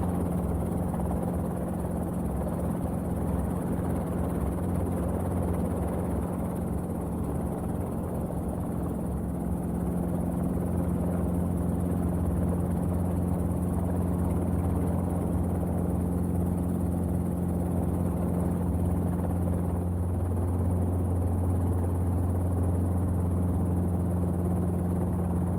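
A Robinson R22 training helicopter hovers close by during a flight lesson, its steady engine and rotor drone holding a constant low hum with strong tonal bands, continuous and loud for the whole stretch with no talk.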